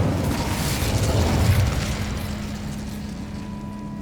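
An Incendio fire spell is cast in Hogwarts Legacy, giving a loud, broad whooshing burst of flame that swells and then slowly fades into a low rumbling roar, with no voices.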